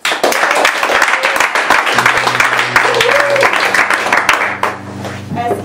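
An audience claps together to cast a vote, dense sustained applause filling the room from start to finish, with speech heard over it and some background music.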